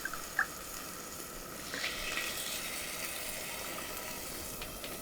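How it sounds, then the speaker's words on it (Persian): Cold water poured into a pot of fesenjan stew (chicken, walnut and pomegranate), a faint steady pouring hiss lasting several seconds after a small clink, quiet and close with no talk. "من الان آب سردم رو اضافه میکنم"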